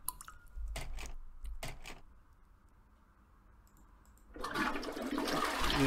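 Toilet flushing in the video game Laura Silver: a loud rushing surge of water after a couple of short clicks and a quieter lull, growing into a full flush at close range with no talk.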